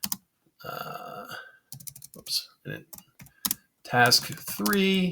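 Short bursts of typing on a computer keyboard while writing tasks in the Vim editor, with the clatter of keys alternating with a man's nearby speech.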